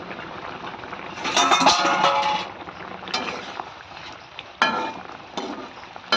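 Fish curry with potatoes and a ground spice paste bubbles and sizzles in a pan, with a louder spell of frying and stirring clatter early on, then quieter simmering broken by a few sharp scrapes and knocks.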